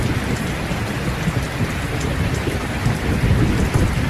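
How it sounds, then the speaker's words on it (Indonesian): Heavy rain pours during a thunderstorm over the city of Semarang, a loud dense wash of drops with deep rolling thunder rumbling underneath and no voices. "Sudah 2 hari hujan mengguyur kota Semarang."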